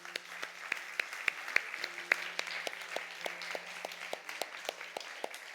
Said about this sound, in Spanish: ¿Podemos darle un aplauso bien fuerte a Jesús?